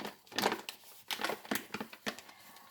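Flour poured from a paper bag into a small cup for oatmeal cookie baking, heard as soft close crinkling and rustling bursts with no speech.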